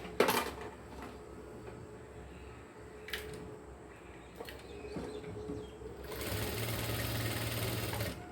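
A sewing machine stitches a blouse with its lining, a brief burst at the start, then quiet handling clicks, then a steady close mechanical whir from about six seconds on.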